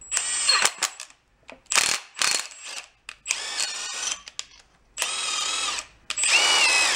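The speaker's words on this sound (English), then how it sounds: "I want to run a nut just over them, just a nut in a socket" A ratchet or power tool spins a nut onto a stud with a socket on a VW bus engine, in loud close whirring bursts separated by brief pauses.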